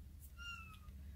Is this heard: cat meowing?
yes